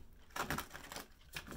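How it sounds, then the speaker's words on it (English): Tarot cards are shuffled in a few quick, faint riffling bursts close by, with no talk. "One more shuffle."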